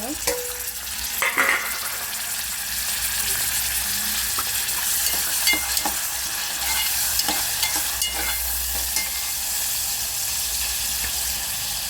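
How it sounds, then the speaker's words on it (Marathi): Onion and tomato frying in a pan for a Maharashtrian chawli usal, a steady bright sizzle with intermittent stirring scrapes and clinks, close and continuous without speech. "आपला कांदा भाजून होत आहे त्यात आपण टोमॅटो ॲड"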